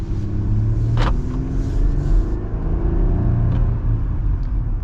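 A 2025 Jeep Gladiator Nighthawk pickup rolls through a parking lot, its engine a low steady hum and rumble with tire and road noise, plus a brief bump or clunk near the start, with no speech.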